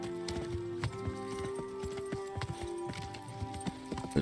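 A horse's hooves clip-clop steadily in the medieval game Kingdom Come Deliverance, a brisk, even rhythm of close, distinct hoofbeats over a faint sustained background drone.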